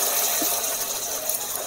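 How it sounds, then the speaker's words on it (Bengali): Hot liquid gushes steadily into a cooking pot of bottle gourd curry with dried hilsa fish, a close, continuous pouring wash with no voices over it. "ঝোল দিয়ে দিচ্ছি"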